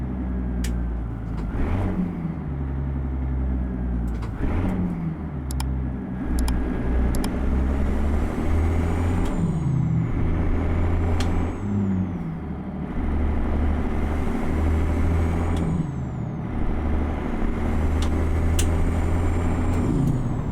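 Kenworth K100E cab-over truck in American Truck Simulator, a steady loud diesel engine drone that dips and rises through gear splits and shifts, with hissing air releases and faint squeaks across the run.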